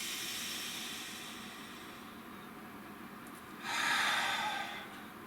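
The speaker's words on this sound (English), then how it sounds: "Nice deep breath." A person takes a slow, deep breath close to the microphone, a soft airy inhale building into a louder rushing exhale near the end, with no talk over it.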